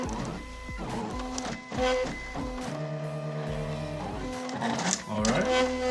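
A vinyl cutter runs its blade through a T-shirt design, giving off steady motorized whirring with shifting pitched tones and short stepping bursts, close and fairly loud, with no talking.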